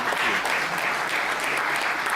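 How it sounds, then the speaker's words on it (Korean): An audience applauds steadily at a foundation's 12th anniversary ceremony as a bas-relief is unveiled; dense, continuous clapping fills the hall without a break and no one speaks over it. "여러분 모두 박수로 환영해 주시기 바랍니다."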